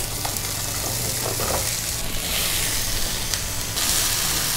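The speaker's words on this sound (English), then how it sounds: "Now that our pan is nice and hot, let's go ahead and add our leeks," Leeks, mushrooms and tomatoes sizzle steadily in a hot pan, a dense continuous crackle and hiss close up, with a few faint stirring scrapes over it.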